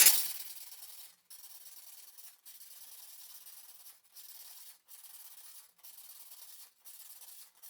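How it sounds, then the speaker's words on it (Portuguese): A styrofoam block being rubbed by hand with 220-grit wood sandpaper, a soft, steady hissing scrape in repeated strokes separated by brief pauses, close and quiet with no talk. "Eu vou vir na parte de lixar o meu bloco e arredondar."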